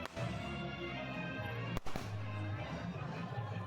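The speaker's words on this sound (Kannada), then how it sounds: "ಪಟಾಕಿನ ಹಚ್ತಾರೆ, ಎಷ್ಟು ಜೋರಾಗಿ ಹಚ್ಚಿಸ್ತಿದ್ದಾರೆ ನೋಡಿ ಪಟಾಕಿ" Firecrackers set off during a temple fair celebration, giving a single sharp crack partway through over a dense wash of crowd noise and festival sound.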